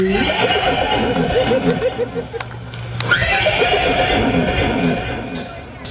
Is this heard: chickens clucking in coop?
no